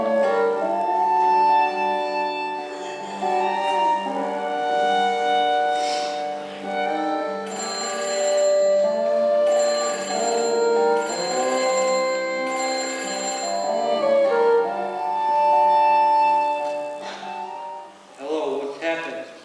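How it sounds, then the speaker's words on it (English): A telephone rings at home in a bright, repeating electronic ringtone pattern that plays continuously and loudly for nearly twenty seconds. "I'm at my house when the phone rang."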